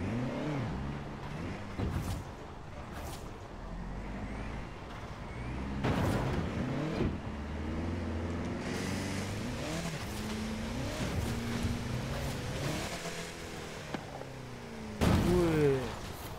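A 2016 Toyota Land Cruiser engine in Forza Horizon 4 revs and strains while climbing, pitch rising and falling through gears with thuds and bumps, as someone talks intermittently over it.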